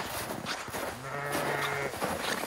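Sheep on a farm in winter: a close bleat with a wavering tone, amid shuffling and noisy ambient background, with other faint animal sounds.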